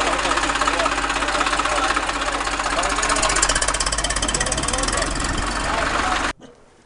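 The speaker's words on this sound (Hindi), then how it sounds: "ईंटों से भरा हुआ ट्रैक्टर बिल्कुल फंस चुका है गली के बीचों बीच" Tractor loaded with bricks, stuck in the middle of a narrow lane, its engine running loud and steady with a rough knocking idle before cutting off near the end.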